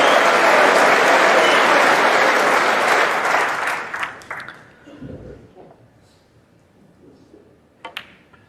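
A snooker crowd at the Masters applauds a shot with a loud burst of sustained clapping that thins out and fades after a few seconds, leaving scattered claps and quiet murmurs.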